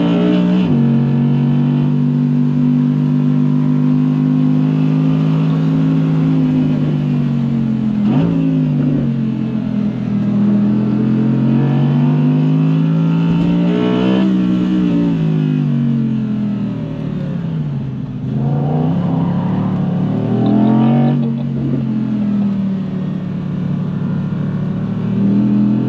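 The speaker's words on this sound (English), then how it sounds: "Hope that mic is picking up that glorious V10" Audi R8 RWD Performance with a V10 engine pulling hard on a closed private road, the loud continuous engine note rising and falling through gear changes for the whole stretch, with no talking.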